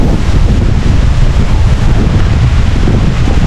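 Steady strong wind buffets the microphone outdoors in the Philippine countryside during bamboo gathering, a loud continuous low rumble with no pauses and no voices.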